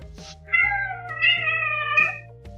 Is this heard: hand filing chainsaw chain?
no